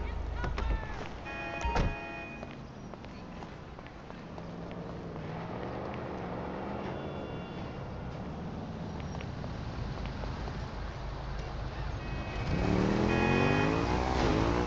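A car drives in the video game GTA 5, a quiet engine hum throughout that swells into a rising rev near the end, with talking over it.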